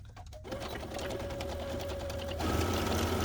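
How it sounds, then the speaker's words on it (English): A sewing machine stitches down layers of fabric for a costume, its motor whirring in a steady close run after a brief start, rising a little in speed near the end, with no talking. "Okay, so now we've got that, and now we're going to sew this."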